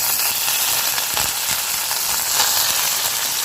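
Onions sauté with curry leaves in a pan, giving a continuous close sizzle and crackle of frying with occasional stirring scrapes, no voices.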